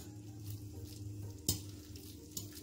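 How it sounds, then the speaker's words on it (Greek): Linguini being stirred in a frying pan with the burner switched off, a soft continuous sizzle with a few light utensil scrapes and one sharp clink against the pan. "ανακατεύουμε"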